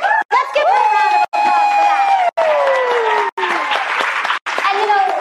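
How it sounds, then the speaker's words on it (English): A live show audience breaks into applause mixed with cheering and whoops, loud and sustained, while a voice keeps talking over the crowd and a few brief gaps cut the sound. "Let's give her a round of applause"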